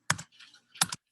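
Two short bursts of computer keyboard typing, a quick cluster of key clicks, a pause with faint keystrokes, then another cluster, close and fairly quiet with no talk.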